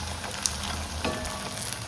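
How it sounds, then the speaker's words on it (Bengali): Lentil fritters (bora) fry in oil, a close, steady sizzle with light crackling and occasional pops. "এই যে বড়া ভাজছি"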